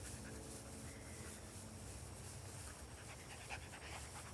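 A dog pants quietly during down training, rapid soft breaths in a steady rhythm, faint and close against a low background hiss, with no voices.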